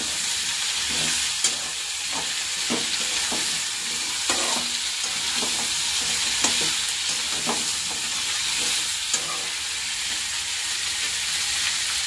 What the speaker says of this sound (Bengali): একটু ভালো করে ভাজবো, তারপরে মশলাটা অ্যাড করবো।